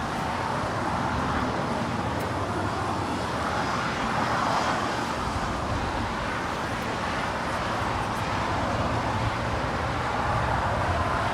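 A Spirit Airlines Airbus A320neo departing on the south side of LAX, a broad steady jet engine rumble filling the whole stretch, fairly loud with distant traffic mixed in.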